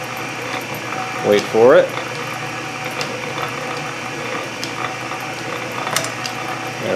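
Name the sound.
drill press gears engaging by hand turning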